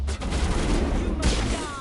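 Video game gunfire, a dense, loud burst of rapid shots crackling close up and continuing without pause, with a fresh volley near the end.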